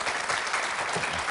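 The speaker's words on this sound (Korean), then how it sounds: "여러분 다시 한번 박수 보내주시기 바랍니다." A television studio audience claps together in steady, dense applause, sustained and fairly loud throughout, with no voices standing out above it.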